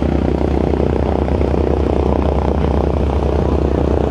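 A propeller airplane flies at the Culpeper Air Fest air show, its engine droning loud and steady throughout without a break.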